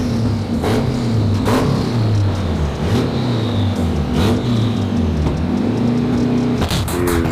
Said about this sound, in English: He'll let us hear it using launch control.